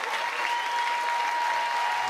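Crowd at a Duke college baseball game in Durham cheering and clapping for a pitcher, a broad steady wash of applause from a distant stadium audience.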